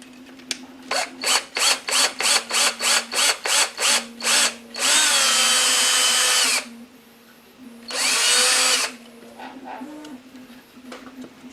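Electric drill boring into the plastic shell of a Game Boy Color toy: a run of about a dozen short, evenly spaced whirring bursts, then two long sustained drilling passes, loud and close with no talk.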